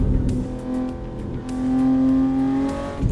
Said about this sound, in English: This BMW here, it sounds like a real car, but it's electric.